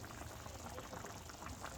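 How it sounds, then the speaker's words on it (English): A pot boiling on a stove: steady, faint bubbling and churning water with no voices, close and continuous throughout. "since it's boiling, you want to go ahead and just lower it a little bit"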